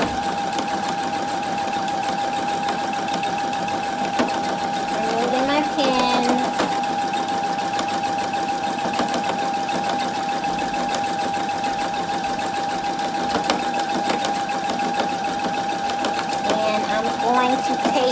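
A home sewing machine stitches fabric for a decorative pillow in a steady, continuous whir, pausing briefly mid-run as the presser foot lifts and the fabric is turned, with a person talking over it.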